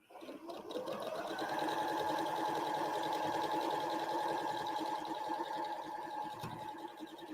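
A sewing machine runs steadily and close up for several seconds while stitching a quilt seam, with a smooth, even motor whir and no talking.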